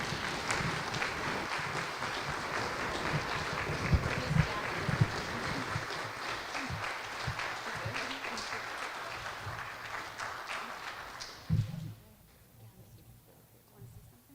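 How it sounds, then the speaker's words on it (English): An audience at a community awards ceremony applauds a family in a steady, dense burst of clapping that lasts about eleven seconds and then quickly dies away. "Please join me in giving a big round of applause to the Gailey family."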